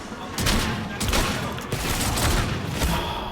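Rapid, dense shotgun blasts from Call of Duty Black Ops 7 zombies mode, loud and continuous with overlapping booms and no pause.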